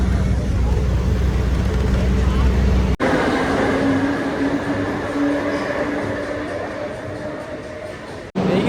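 A metro train crossing a bridge over the Ganga rumbles steadily from inside the carriage, a loud continuous low drone with a couple of brief sharp breaks as it runs.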